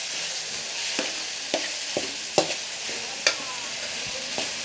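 Tomato rice stirred in a hot pan, a steady sizzle with a handful of distinct spoon scrapes spaced irregularly, close and moderately loud, no voices.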